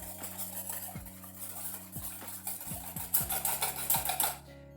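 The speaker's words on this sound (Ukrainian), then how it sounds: "Сюди ми додаємо сіль, додаємо цукор і це все добре перемішуємо" Eggs beaten with salt and sugar in a bowl, a utensil clinking and scraping against the sides in a quick rhythm that speeds up and gets louder toward the end, close by with no talking.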